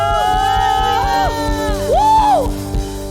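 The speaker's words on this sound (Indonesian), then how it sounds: "berikan tepuk tangan bagi dia." A church congregation at a Sunday worship service in Bogor cheers and whoops over sustained, swelling keyboard music. Scattered shouts and crowd noise rise and fall against the loud, sweeping tones.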